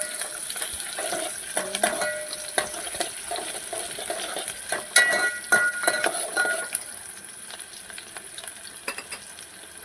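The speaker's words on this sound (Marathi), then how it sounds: "तर आपल्याला आता टाकायचा आहे जिरा थोडासा, कढीपत्ता टाकायचे आहे पानं, लाल करून घ्यायचं आहे" Cumin seeds and curry leaves fry in hot oil for misal, with a steady sizzle and crackle and occasional stirring scrapes close by.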